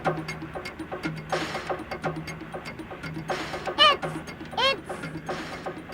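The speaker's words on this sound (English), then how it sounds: "That's a very unusual piece of equipment called a barrier mover, Alex." A barrier mover machine lifts and shifts concrete road barriers on a construction site with steady mechanical clanking and ratcheting, repeated clicks and whirring gear noise, loud and close, with no voices.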